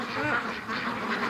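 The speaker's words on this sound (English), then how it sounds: "we got a duck" A free-range duck in a backyard quacks in a loud, close, continuous run of raspy nasal calls that fill the whole moment.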